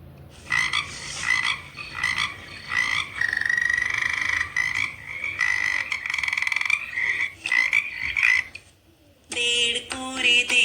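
A frog croaks in loud, rapid, pulsing bursts with short gaps between them, and a different, brighter croaking call comes near the end.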